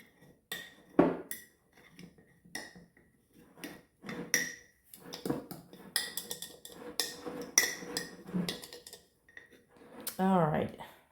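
A utensil scrapes and clinks around the sides of a bowl of flour-and-water sourdough starter batter in irregular bursts, with short knocks and scrapes, light rattling near the end, and a person talking quietly at times.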